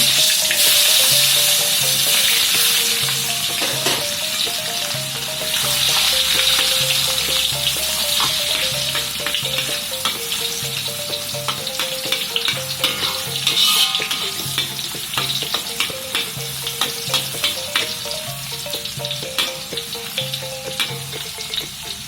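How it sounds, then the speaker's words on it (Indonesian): Tomatoes sizzle and crackle loudly in hot oil, with occasional stirring scrapes, steady throughout with no voices. "Berikutnya kita goreng tomat terlebih dulu."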